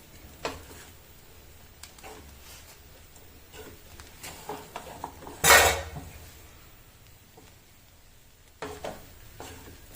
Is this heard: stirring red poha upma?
yes